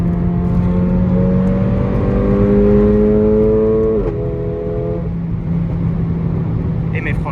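A Mercedes A45 AMG engine revs hard while driving, its steady loud drone climbing in pitch, then dropping abruptly at a gear change before pulling again.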